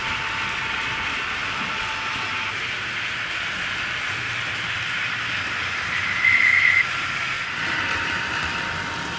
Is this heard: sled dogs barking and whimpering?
no